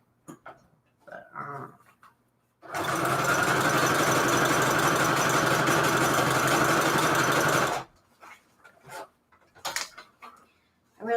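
A sewing machine stitches fabric onto junk journal pages for a pink Christmas project, running in one loud, steady burst of about five seconds between quieter handling noises.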